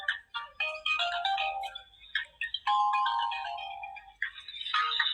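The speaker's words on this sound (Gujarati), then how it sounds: "ફોન જાય, જુઓ તમે." A phone ringtone plays during a call, a bright electronic melody of short repeating phrases that rings clearly on its own with brief gaps between the notes.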